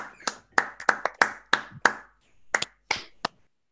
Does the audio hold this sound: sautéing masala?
no